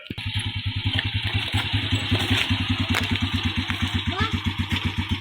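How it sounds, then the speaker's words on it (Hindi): A motorcycle engine idles close by with a fast, even chugging pulse that holds steady throughout, with a faint voice beneath it. "हम मोटरसाइकिल के पास आ चुके हैं और अब मेरा मोटरसाइकिल को यहाँ से निकल"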